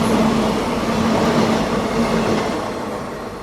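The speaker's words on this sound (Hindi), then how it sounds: "अभी कोई ट्रेन अपन को यहाँ पर ओवरटेक मार के निकल रही है" ICF train overtaking at Ernakulam Town railway station, heard from a train carriage as a loud, close, continuous rumble of passing coaches and wheels that slowly fades toward the end.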